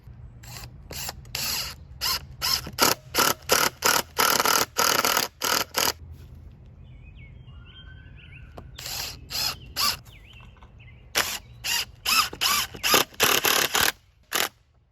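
A power drill drives long screws into a wall to mount a bike repair stand, running in a rapid series of short, loud bursts with brief pauses and a ratcheting clutch chatter, close up.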